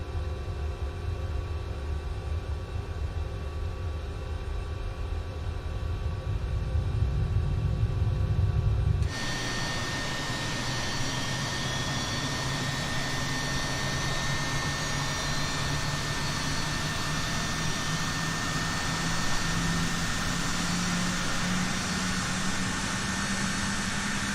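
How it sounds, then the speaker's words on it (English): Right engine of a Cessna Citation Mustang jet spooling up during start in Microsoft Flight Simulator: a steady background hum, then a sudden shift into a loud rising whine and roar that keeps building. "we'll get ready to start number the right engine. N2's coming up."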